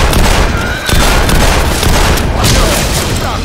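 Rapid, loud gunfire from a gun in the Counter-Strike office map, booming shots packed closely together for the whole stretch with only a brief dip, heard close up.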